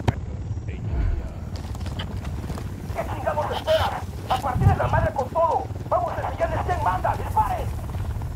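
A helicopter in a shooter video game, a continuous low rotor rumble and wind-like roar beneath excited talk, steady and fairly loud throughout.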